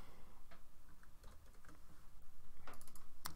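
Quiet bursts of computer keyboard typing, soft clicks in short uneven runs over a faint hum, ending with a sharper tap.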